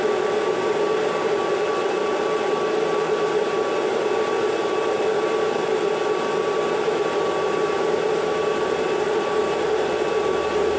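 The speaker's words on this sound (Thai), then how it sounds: "พัดลมทำงานนะครับตอนนี้เสียงดังหน่อยนึงเสียงพัดลม" The cooling fan of a faulty 100 grid tie inverter runs loudly under load, a steady unbroken whirring roar with a constant tonal hum and no pauses or voices.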